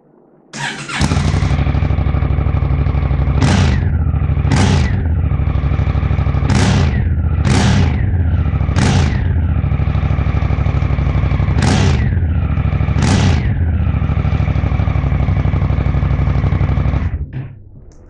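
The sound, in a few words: Honda Africa Twin motorcycle engine running with modified exhaust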